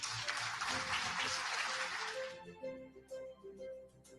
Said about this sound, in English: I want you all to give yourselves a round of applause, please.